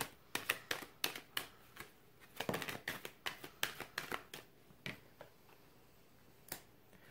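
A deck of tarot soul journey cards being shuffled, a quick run of crisp, close card snaps and riffles in uneven bursts, alone in a quiet room.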